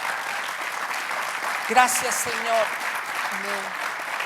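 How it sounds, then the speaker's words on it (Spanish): A church congregation applauds during a Spanish-language Sunday service, a steady broadband clapping wash running throughout while a voice speaks and sings briefly over it. "dale un aplauso a Jesús"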